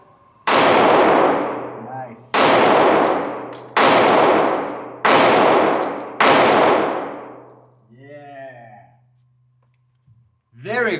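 Sig Sauer P365 X Macro pistol fired at a range, five loud, sharp reports at roughly one-to-two-second intervals, each ringing out briefly, followed by a little talking.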